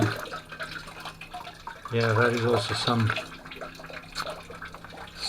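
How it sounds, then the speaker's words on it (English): Water runs steadily into a garden pond being dug, a continuous trickling flow heard close by, with a person talking over it for part of the time. "I let the water run for now."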